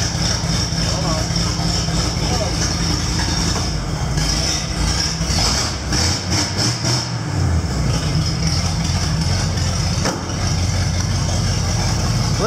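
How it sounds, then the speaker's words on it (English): A Chevy engine idles with a rebuilt carburetor and no exhaust because the muffler is rotted out, giving a loud, steady, raw rumble close by throughout. "Listen to that thing purr like a kitten. It has no exhaust. The muffler is rotted out."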